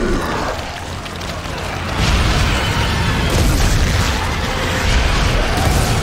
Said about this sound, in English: Look at the power of this gun.